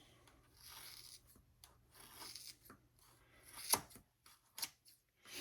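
Scissors snip through a bundle of synthetic hair, cutting about four inches off the end for a Wookiee dreadlock: quiet rasping, rubbing strokes with a few sharper snips near the end, faint and close.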